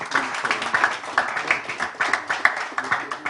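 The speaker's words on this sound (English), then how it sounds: "Ladies and gentlemen, big round of applause for Harsh Mehta." A small audience at a pickleball championship press conference claps for a player, the claps sparse and distinct, arriving in quick uneven bursts close to the microphone.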